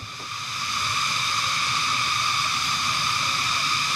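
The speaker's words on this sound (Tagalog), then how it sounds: "Grabe, sobrang lakas ng kuliglig," Cicadas in the Benguet mountains drone loudly and without a break, a shrill layered buzz that swells in the first second and then holds steady over a faint low rumble.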